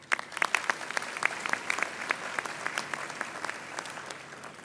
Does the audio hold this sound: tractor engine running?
no